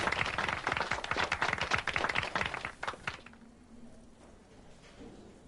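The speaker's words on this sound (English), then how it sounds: "A lazy applause fills the room." Lazy, scattered applause fills a room in the video game Disco Elysium, with slow uneven claps that carry for about three seconds and then die away into a quiet room tone.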